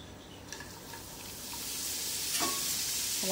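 Pappadam frying in hot oil in a home kitchen while being stirred, a soft sizzle that swells into a bright, loud crackle toward the end, with a few light utensil scrapes, no voices.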